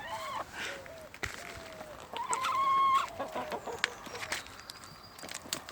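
Backyard chickens cluck softly and intermittently in short, faint calls, with light rustling around them outdoors.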